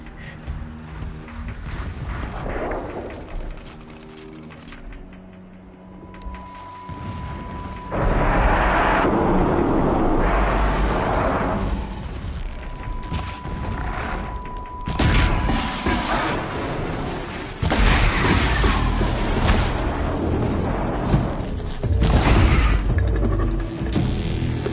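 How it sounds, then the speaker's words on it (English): Distant explosions rumble through a Horizon Zero Dawn game scene on PS5, heavy low booms rolling in long surges over steady ambient noise, with no talking. "Explosions in the distance."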